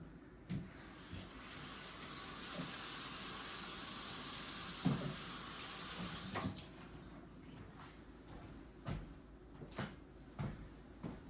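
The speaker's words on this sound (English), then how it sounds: "So now I'm gonna just wash up my shelves, and I'll do one shelf at a time" Tap water runs steadily while refrigerator shelves are washed in a kitchen sink, with a broad hiss interrupted by several sharp knocks and clatters of shelves and cupboard parts, then the flow stops and scattered handling bumps follow.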